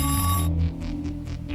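A telephone rings with a bright, close trill that cuts off after half a second, then gives way to soft, faint pulsing.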